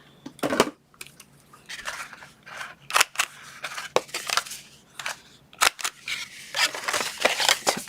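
Scissors cutting paper to make a seasoning box, snipping and mitering corners: crisp, close snips in an irregular series with short pauses between them.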